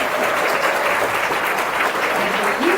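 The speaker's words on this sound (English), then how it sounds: "let's give a big round of applause for our historians" Audience applause at a book launch event, a steady round of clapping filling the room at close range, with a brief voice rising near the end.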